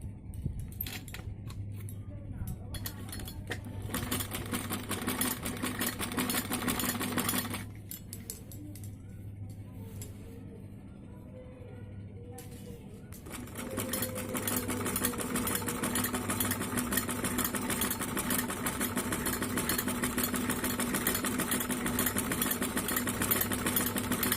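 A sewing machine stitches a kameez kurti in a steady, fast mechanical whir that runs for several seconds, drops away for a few seconds, then resumes and carries on steadily to the end.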